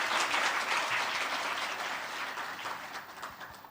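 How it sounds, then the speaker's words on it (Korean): A church congregation applauds a prize winner at a men's competition award during a Sunday service, a steady wash of many hands clapping throughout that gradually softens. "두둑한 현금 박수로 격려해 주시기 바랍니다"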